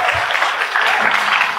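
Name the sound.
audience applauding for MAN 13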